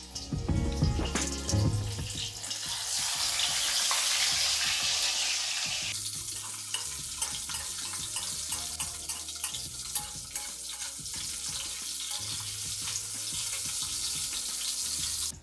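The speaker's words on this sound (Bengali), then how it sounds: "এইভাবে আমি পরের মাছগুলোকেও ভেজে নেব।" Katla fish pieces frying in hot oil in a pan give a steady close sizzle and crackle that runs through the whole stretch, with occasional clinks and knocks of utensils and no talking.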